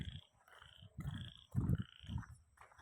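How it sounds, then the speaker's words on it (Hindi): Frogs croak in the rain, a series of about six throaty, rhythmic calls in quick succession, fairly close but soft, with no other voices. "ये मेंढक बोल रहे हैं,"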